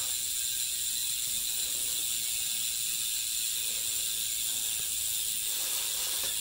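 A RUJIXU bicycle wheel's freshly regreased freehub clicks faintly as the wheel is spun, a soft rapid ratcheting buzz under a steady hiss.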